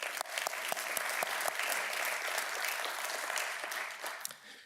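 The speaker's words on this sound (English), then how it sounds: "Will you give them a round of applause?" A round of applause rises from the audience at an awards event, with many hands clapping steadily and sharp individual claps standing out before it slowly tapers near the end.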